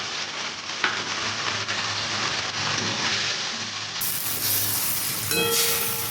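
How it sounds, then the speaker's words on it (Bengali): Mustard paste hits hot oil in a pan while tangra fish is cooked with brinjal, giving a loud, dense, continuous sizzle up close that swells slightly partway through. "সর্ষেটা দিয়ে দেবো সর্ষেটা পুরোটা দিয়ে দিলাম"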